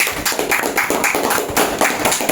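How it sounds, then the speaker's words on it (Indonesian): A school class claps hands together in a group guidance session, a dense stretch of many overlapping claps that pulses steadily and stays fairly loud for about two seconds with no talk. "Tepuk tangan dulu, kita apresiasi Penny ya."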